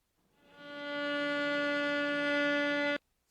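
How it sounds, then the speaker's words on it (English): A single sustained violin note, steady and bright with a rich stack of even harmonics, swelling in over half a second, holding evenly for about two seconds, then stopping abruptly, heard alone in a recording. "So here's the violin"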